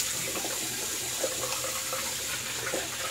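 Warm tap water runs in a steady, close, full-bodied rush for rinsing after a wet shave with a brass-handled slant safety razor, with no other sounds on top.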